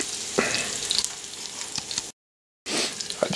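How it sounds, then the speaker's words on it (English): A packrat frying in bacon grease, steady crackling sizzle with scattered pops, loud and close, cut by a brief silent gap before the sizzling resumes. "fried in bacon grease"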